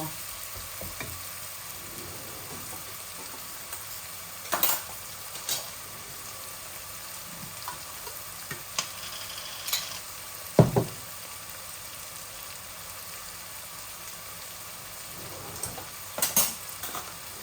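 Goat trotters fry with spices in a pan during bhuna cooking, a soft steady sizzle broken by occasional sharp clinks of a utensil against the metal, no talking.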